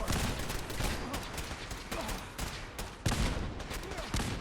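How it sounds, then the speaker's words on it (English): Automated turrets open up in the Fallout 4 video game, a dense, continuous rattle of rapid gunfire with a sharp louder burst near the end, close and loud. "I still don't know why the turrets are shooting at me."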